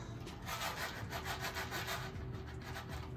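Cereal box shaken back and forth, its contents rustling and scraping in a dense rhythmic rattle for a few seconds, close but fairly quiet, with no talking over it.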